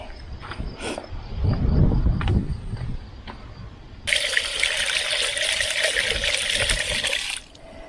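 A strawberry is rinsed under a tap on a farm in central Portugal: handling noises first, then water gushes loudly and steadily for about three seconds before cutting off.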